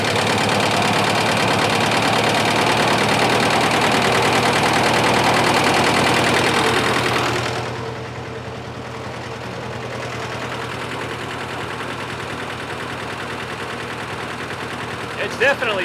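Engine of a 1955 Massey Harris tractor running loud and steady up close, then dropping to a quieter, even idle partway through, with a faint click near the end.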